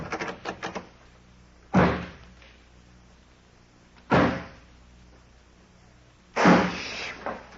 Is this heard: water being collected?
no